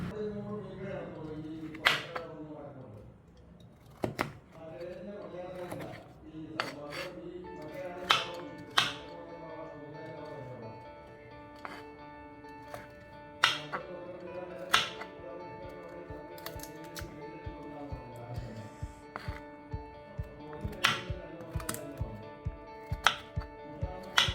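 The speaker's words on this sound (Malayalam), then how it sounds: "ഇതെല്ലാം ചെറിയ പീസസ് ആക്കി അരിഞ്ഞെടുക്കാം." Knife chopping cleaned kasturi (wild) turmeric root into small pieces on a board: sharp, irregular taps and cuts, some close and crisp, others softer, over a bed of background music.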